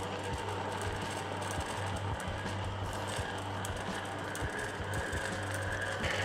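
The burrs of a flat burr coffee grinder rub against each other during alignment, giving a continuous gritty scraping with a steady low motor hum and faint repeated ticks, close and even throughout.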